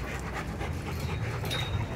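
A dog pants steadily and rapidly at a dog daycare, a close breathy rhythm that continues throughout over faint background noise.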